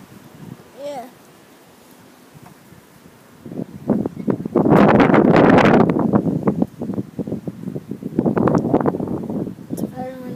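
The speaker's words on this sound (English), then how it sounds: "It's a very windy day." Strong wind blows outdoors on a cold, very windy day, roaring in loud gusts against the microphone and through trees, with a brief bit of speech before it.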